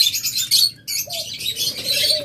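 Opaline pet birds in a cage chirp busily in a dense, bright chatter that pauses briefly and then resumes, with a faint higher whistle running underneath.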